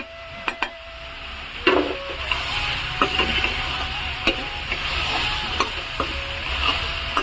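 Pork cooks without oil in a pan with chopped tomatoes added, a steady soft sizzle broken by scattered clicks and scrapes of stirring, close and moderately loud, with no voice over it.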